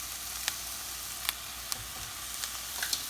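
A mixture with soy sauce is stirred in a pan, light scraping ticks and taps at an irregular pace over a soft, faint sizzle, with no voices.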